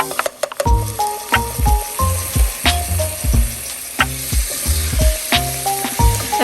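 Garlic and onions sizzle and fry in a pan for a crawfish étouffée, a close, steady crackle with repeated clattering knocks from stirring spread throughout.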